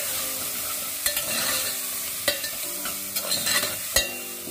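Fresh peas with salt are stirred and fried in a pan for matar pulao, with a sizzling bed of hot oil broken by several sharp spoon clacks and scrapes against the metal at uneven intervals.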